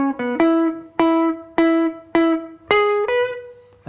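Electric guitar picking a melody in a country swing style: a quick grace-note pickup, then a steady run of plucked, sustaining notes in a bouncing rhythm, played close and clean with no voices.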